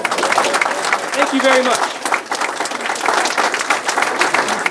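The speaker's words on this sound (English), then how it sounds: "How about a nice round of applause?" Attendees at a county hall of records talk on barrel-aged beer give a round of applause: steady, full crowd clapping throughout, with someone briefly speaking over it midway.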